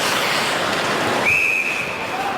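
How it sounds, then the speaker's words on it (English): A referee's whistle blows sharply during an NHL hockey game between the Los Angeles Kings and Edmonton Oilers in 2014, a single sustained tone cutting through loud arena crowd noise. "and we've got a whistle."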